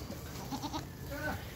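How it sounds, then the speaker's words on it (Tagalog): Domestic goats bleat close by as they follow their owner through the countryside, a few short wavering calls over a low outdoor background. "sinusundan siya ng kanyang mga alagang kanding"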